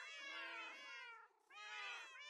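Cats meowing in the Minecraft video game, two long drawn-out meows with a brief gap between them, clear and close with no talk.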